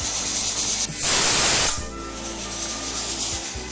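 A pressure cooker cooking chicken lets out a loud, close burst of hissing steam lasting under a second, then settles back to a quieter background hum and sputter.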